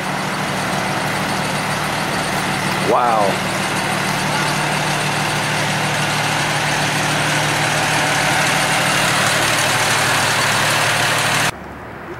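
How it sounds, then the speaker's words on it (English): Fire truck engines idling steadily at a flood scene, a continuous low diesel rumble heard close and alone for most of the clip, with one short exclamation from a voice. "we have fire trucks from all different townships here."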